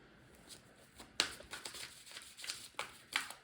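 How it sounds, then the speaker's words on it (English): Tarot cards being shuffled up close, a series of quiet riffling and slapping bursts at an uneven rhythm, with no talking. "I'll finish our shuffle."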